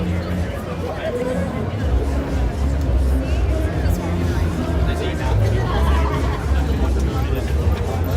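Steady hubbub of a big crowd downtown in Toronto on a Friday evening, dense overlapping chatter close by with traffic rumbling underneath throughout.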